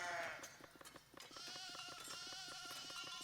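Sheep bleating in the colony-building video game Foundation, a few short calls over a steady ambient music bed.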